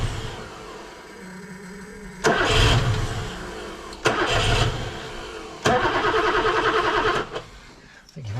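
A BMW E9 3.0 CSi barn find cranks on its first start attempt in over 20 years: three loud bursts of starter churning broken by pauses, each catching briefly without settling into an idle.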